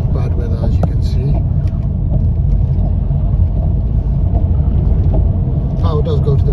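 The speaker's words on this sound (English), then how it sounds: "putting the car on Sport now, you can see the car is very responsive." A 2014 BMW 118d three-door automatic, rear-wheel drive, driven in Sport mode gives a steady low engine and road rumble heard from inside the cabin, continuous and fairly loud, with a voice talking over it.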